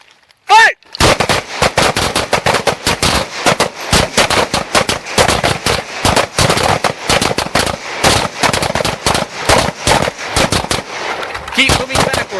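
Pistol gunfire rings out during a moving shooting drill, many rapid, loud, close shots in irregular bursts, several shooters overlapping, with a short pause near the start and brief voices in the background.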